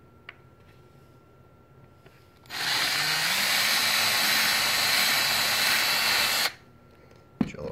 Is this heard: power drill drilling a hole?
yes